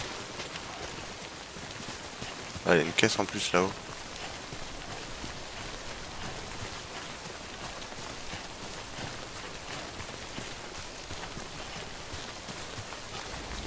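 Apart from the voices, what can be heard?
rain falling in the video game Death Stranding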